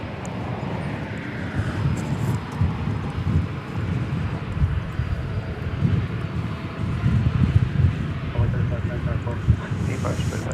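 A fixed-wing airplane at DFW Airport rumbles low and steady, heard outdoors through gusty wind buffeting the microphone, the engine drone swelling slightly as it goes on.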